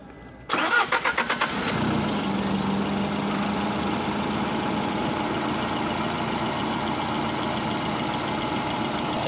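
A diesel car engine converted to direct hydrogen injection cranks with a few rhythmic turns, catches, and settles into a steady, close, rumbling idle.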